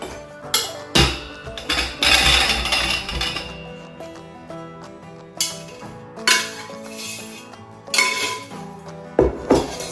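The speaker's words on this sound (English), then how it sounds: "we drained them and we rinsed them, dump them in the dressing" Boiled, drained and rinsed potatoes tumbling into a bowl of potato salad dressing, giving a series of sharp clattering knocks and clinks against the bowl, loud and close, spaced out in bursts.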